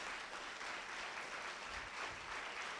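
A church congregation applauding during a Sunday anniversary service, steady continuous clapping from many people, fairly faint and distant, filling the whole moment without speech.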